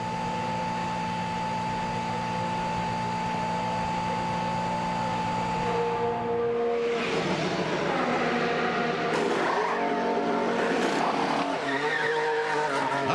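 A Ferrari Formula 1 car in the pits at the 2019 Canadian Grand Prix during a tyre change, with a steady loud engine hum that gives way to a burst of revving, whirring and squealing mechanical noise.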